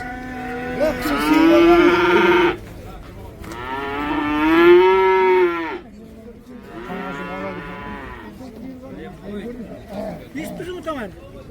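Cattle at a livestock market in Taraz give three long, loud moos, each lasting a couple of seconds with short gaps, close by, with market voices faintly underneath.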